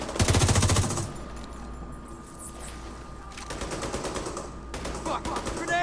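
Rapid bursts of automatic gunfire in The Division 2, loud and close, with clusters of shots separated by short lulls and a steady background hum between volleys.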